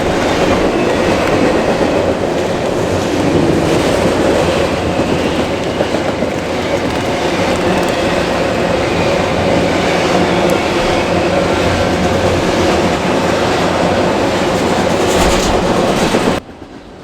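Norfolk Southern freight train 289 rushes past at speed in freezing winter wind. Wheels clatter in a loud, continuous roar that holds for about sixteen seconds and then cuts off abruptly.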